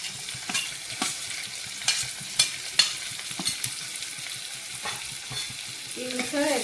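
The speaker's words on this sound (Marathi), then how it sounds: "आता याच्यात आपण बारीक कापलेला कांदा टाकून घेऊया।" Finely chopped onion hitting a hot pan with garlic paste while cooking misal with sprouted matki, sizzling steadily with repeated sharp stirring scrapes and clicks, close and moderately loud.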